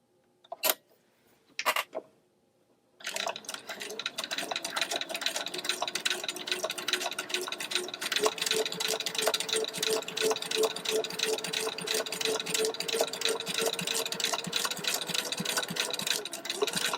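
Sewing machine running two lines of gathering stitches, after a couple of short clicks and a pause, then a steady, continuous mechanical whir with rapid ticking that carries on for a long stretch, moderately loud.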